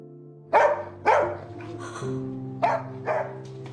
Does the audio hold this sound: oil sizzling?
no